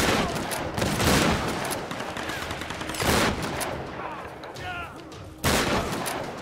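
Rapid bursts of video game gunfire in Tomb Raider, with loud automatic fire in repeated volleys of shots and dense battle noise throughout, and a voice briefly heard over the combat.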